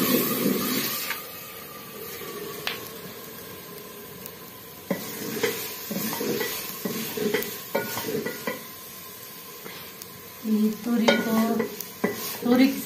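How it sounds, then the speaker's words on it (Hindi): Ridge gourd curry being tempered in a pan: a soft sizzle with scattered scraping and stirring clatters of a spoon against metal, growing busier toward the end. "तुरी की सब्जी को तड़का लगा रहे हैं।"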